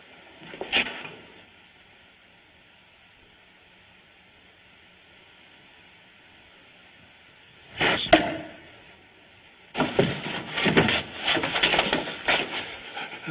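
An arrow whooshes in and thuds into wood with a sharp, close impact, followed by a second loud strike and a busy, clattering burst of noise afterward; no one speaks.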